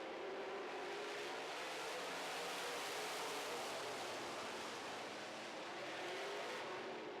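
Modified race cars roar around a dirt oval during a heat race, a dense, continuous wash of engine noise from the pack blending with crowd and track ambience, steady and loud throughout.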